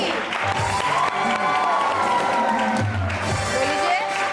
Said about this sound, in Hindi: तो जी सबसे पहले हमारे कपल नंबर 1 के लिए बहुत सारी तालियां